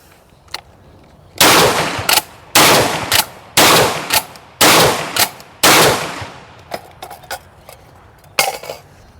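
Çelik Arms Buck Master Gen 2 M shotgun emptying its last magazine in a 1000-round torture test, loud shots fired in quick succession with short pauses between groups, close and sharp, with a few lighter clicks at the end.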